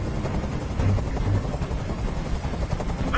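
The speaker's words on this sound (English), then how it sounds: "I can't stand that noise anymore. Tell that helicopter to get out of here." A helicopter hovering in Detroit: Become Human, its steady rotor thrum loud and continuous with rapid chopping pulses throughout.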